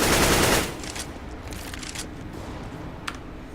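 A clan tournament match in a shooting game opens with a dense, loud burst of gunfire that cuts off after half a second, leaving a steady rumbling bed with a few faint clicks and a single sharp snap near the end.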